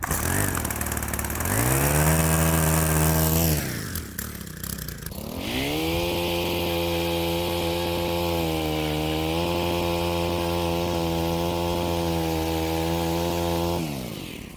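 A chainsaw runs loud and close, its engine droning and shifting pitch, dropping briefly to a rough idle around the middle before revving back up to a sustained whine, with no talking.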